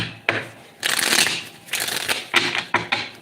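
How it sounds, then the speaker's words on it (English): Tarot cards riffled and shuffled in several bursts at close range, crisp papery flutters and snaps with short pauses between, no voices. "2 more shuffles."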